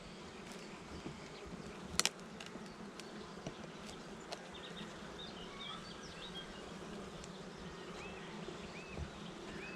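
A dense, steady hum of many honey bees buzzing close by at a hive, continuous throughout, with a brief clatter near the start.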